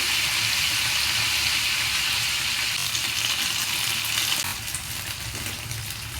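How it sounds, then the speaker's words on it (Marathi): Cumin seeds and washed fenugreek leaves sizzling in hot oil in a kitchen pan, a loud continuous close frying hiss that eases slightly toward the end. "थोडेसे जिरे टाकले मी तेलात आणि आता त्याच्यात मेथी स्वच्छ धुवून घेतली"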